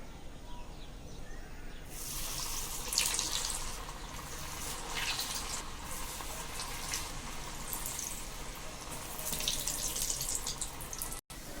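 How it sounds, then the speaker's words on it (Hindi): Chicken tandoori pockets fry in a pan of hot oil, a continuous hissing sizzle that swells and fades across the clip, close and steady with no talking. "हमने एक पैन में तेल ले लिया है, तेल हमारा गर्म हो चुका है फ्राई करने के लिए। अब हम इसको फ्राई करेंगे।"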